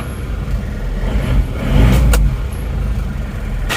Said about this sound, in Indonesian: Suara mesinnya seperti ini.